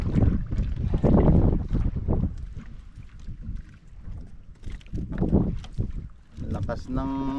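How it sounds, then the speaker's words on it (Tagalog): Strong sea wind buffets the microphone in heavy, roaring gusts in Quezon, Philippines, with faint water and fishing boat sounds beneath. "Lakas ng hangin."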